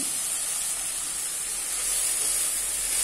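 Finely chopped fenugreek leaves hitting a hot pan of onion and tomato for methi dal, giving a steady, fairly soft hiss and sizzle that continues evenly from start to finish without speech.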